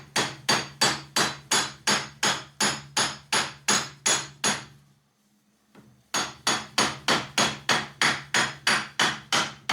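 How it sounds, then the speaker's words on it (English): A soft hammer striking parts of a Timberjack 360 steering cylinder during disassembly, a fast, steady run of loud, evenly spaced blows, a brief pause, then another identical series of rhythmic close strikes. "You should use a soft hammer when you're working in here."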